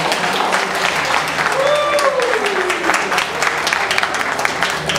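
Applause from a crowd of red-shirt supporters at a Thai political rally fills the air as dense, continuous clapping, with a voice calling out over it partway through.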